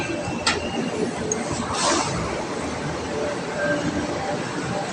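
Rumbling light rail (LRT) train noise fills a station, with the hiss and clatter of rail cars and a brief squeal, while people talk faintly nearby.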